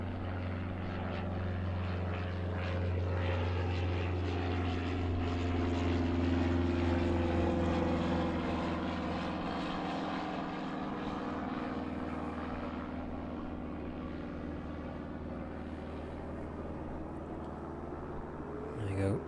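Aircraft departing East Midlands Airport in the evening, a steady engine roar heard from a distance with a low droning hum that slowly swells and then eases, buffeted by a crosswind.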